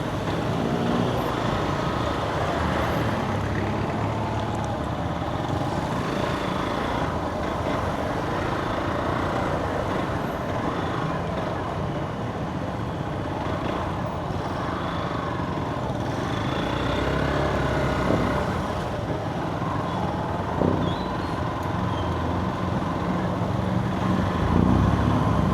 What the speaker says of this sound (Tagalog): Traffic na dito.